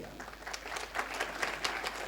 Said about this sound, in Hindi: आप सभी की तालियों को आमंत्रित करता हूं